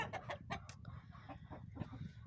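Several hens cluck in quick, uneven bursts nearby, with a short sharper squawk early on, then softer clucking trailing off.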